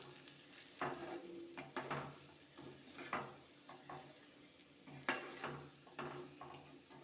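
A spoon stirs sautéed capsicum with turmeric and chili powder in a sizzling pan, giving repeated scraping strokes and clinks over soft frying, each stroke close and sharp.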